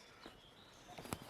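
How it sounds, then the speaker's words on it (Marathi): A few short bird chirps sound briefly over quiet forest ambience, faint and spaced apart. "पक्ष्यांचा किलबिलाट, वानर, ह्या सगळ्यांचा आवाज"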